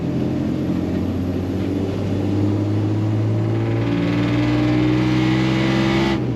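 A 1955 Chevrolet 3100 first-series pickup with a straight-six engine drives along, its steady exhaust drone rumbling close and loud, rising slightly as it pulls through a roundabout, with no voices.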